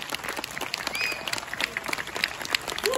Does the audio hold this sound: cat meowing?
no